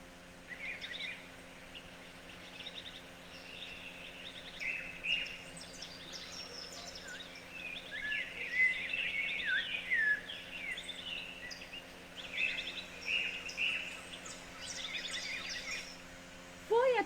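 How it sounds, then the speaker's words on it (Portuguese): Birds singing in a garden as a sound effect: a steady stream of overlapping chirps and warbles, moderately soft and continuous, with no other sounds on top. "logo ouviu os pássaros cantando no jardim"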